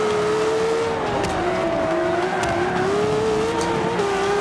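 Lamborghini Aventador in Forza Motorsport 5 squealing its tires as traction is lost, a loud sustained wavering screech over the engine's roar for the whole stretch.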